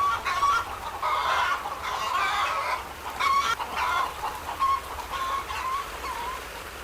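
Hens out in a village street cluck repeatedly in short, bursty phrases at moderate distance, with a few louder clucks rising over a soft rural background.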